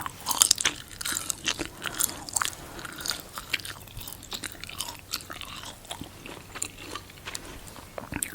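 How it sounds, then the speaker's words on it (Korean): Chewing on jjondeugi, a chewy Korean snack, close-miked in ASMR style, with repeated wet bites, crunches and sticky mastication in an uneven rhythm and no talking. "열심히 씹어보세요"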